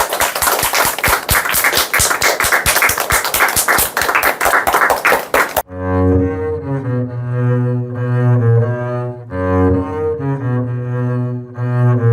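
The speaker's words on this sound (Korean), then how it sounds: "우리 하나님께 영광의 박수 돌려드리겠습니다." A church congregation gives a round of rhythmic applause during Sunday worship, steady loud clapping for about five seconds that breaks off abruptly into sustained music.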